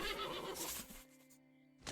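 A horse whinnies loudly in the video game Above Snakes, a long rising and falling neigh that ends abruptly, with a brief noisy burst just after.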